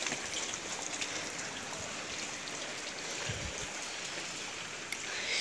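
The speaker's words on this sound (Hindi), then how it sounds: "अब मैं जा रही हूँ अंदर, जो कि बारिश बहुत ज़्यादा तेज है।" Heavy monsoon rain pours outside a house, a dense, steady hiss that stays loud and even throughout, with one brief low thump partway through and no voices.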